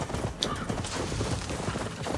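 Horse hooves clip-clop in Assassin's Creed Valhalla, a steady run of close hoofbeats in an uneven gait, with no talking over them.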